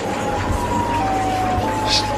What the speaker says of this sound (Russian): Я слышу звук сирен.